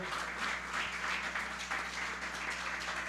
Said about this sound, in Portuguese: Eu queria que você aplaudisse mais uma vez